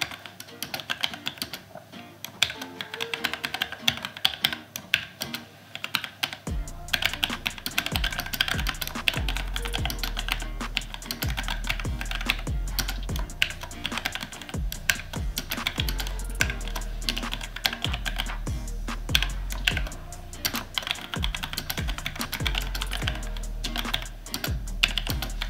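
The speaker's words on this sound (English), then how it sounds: "let's take this typing test and see what we get" Steady, rapid keystrokes clatter from a computer keyboard through a typing test, a dense rhythm of clicks with heavier thuds from the keys bottoming out, running nearly unbroken for about twenty-five seconds with no talk.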